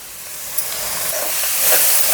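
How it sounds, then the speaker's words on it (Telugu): A kitchen mixie grinder runs through a batch of ingredients for Telangana evening snacks, giving a steady, loud whirring hiss that swells slightly toward the end, with no talking. "ఇప్పుడు మనం మిక్సీ పట్టుకునేవి"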